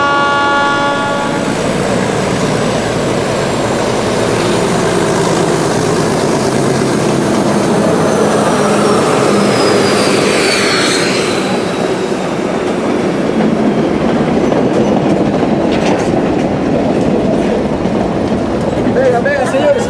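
A train at a station platform in Peru on the Lima to Cusco route rumbles loudly and steadily throughout, with a long sweeping horn-like tone in the middle and faint voices mixed into the rolling din.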